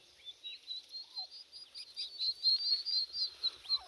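Young turkey chicks about two weeks old chirp in a steady stream of thin, high peeps, fairly soft and close, with no other sounds around them.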